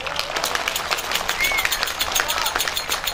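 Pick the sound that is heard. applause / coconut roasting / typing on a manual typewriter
applause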